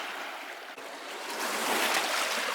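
Surf washing steadily onto a rocky Michigan beach strewn with stones, a continuous broadband wash that swells a little louder toward the end, with no voices.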